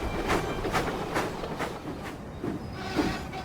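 Thomas the steam engine puffing along the rails toward the Sodor Steamworks, a rhythmic run of chuffs and clacking beats at a steady pace, fairly close and moderately loud, with no talking.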